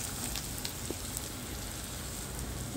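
Onions fry in oil in a pan for fish curry, giving a quiet, continuous sizzle with faint crackles and small pops, close by and without any talk.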